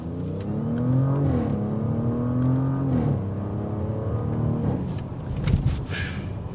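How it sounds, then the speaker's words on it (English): A 2022 Audi S7 drives through a maneuver, its engine rising and falling in pitch with a steady, fairly loud drone, followed by a brief burst of louder rumble toward the end. "We're going to see how that rear steering does now, because it is a longer vehicle and it actually does great."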